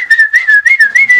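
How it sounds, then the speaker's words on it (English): A person whistles a call, a loud, close run of short, clear warbling notes in quick rhythmic bursts with no talk. "You whistled?"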